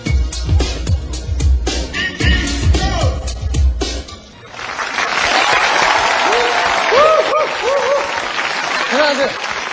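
After a man introduces a new song on a televised talent show, the studio audience bursts into sustained applause. The clapping is mixed with high whistles and cheers, and the talk ends before it starts.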